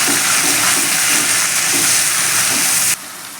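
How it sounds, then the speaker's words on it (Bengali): Cumin, coriander and Kashmiri chilli powder fry in a pan for a paneer and capsicum curry, giving a loud, dense, steady sizzling hiss close by that cuts off abruptly near the end, with no talking. "এবার ভালো করে মশলাটাকে একটু কষিয়ে নেব।"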